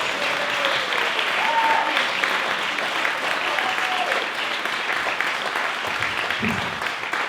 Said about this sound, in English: So if we could start the applause at this end of the room